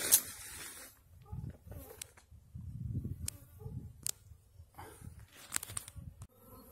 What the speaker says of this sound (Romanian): aici lângă mine este roiul